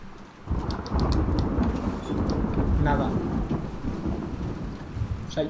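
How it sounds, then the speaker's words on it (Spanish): A thunderstorm in the video game The Last of Us Part II: loud, rolling thunder rumbles over a constant wash of heavy rain, swelling after a brief quieter start and staying close and powerful throughout. "solo escucho truenos"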